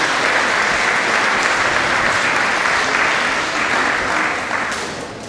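An audience at a school closing event applauds a speaker, a thick continuous wash of clapping that stays loud and full before thinning slightly in the last second.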